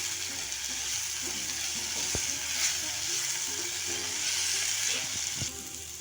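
Maggi noodles fry and sizzle steadily in a pan, with a few sharp clinks of a spoon stirring against the metal, close and continuous throughout.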